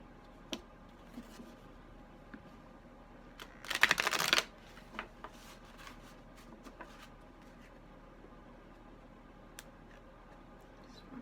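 Tarot cards being shuffled by hand with eyes closed, a single short burst of riffling near the middle amid faint scattered taps and rustles, close and quiet.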